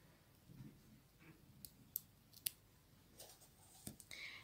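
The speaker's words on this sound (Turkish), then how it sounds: "Burada kullandığımız beyaz ipimi kesiyorum." Scissors snip through white yarn during a craft project, a few sharp, quiet clicks and cuts spaced over several seconds against a soft, faint background.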